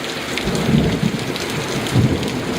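Heavy afternoon rain pours down in a windy thunderstorm, a dense steady roar of rain on surfaces with low rumbles of thunder rolling underneath; no voices.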